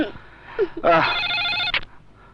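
A telephone rings once in a short electronic trill, with a voice speaking just before it.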